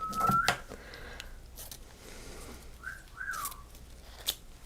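A person whistles a few short, bright rising and falling notes at a live craft-show setup, heard faintly over quiet room sound with occasional clicks and rustles.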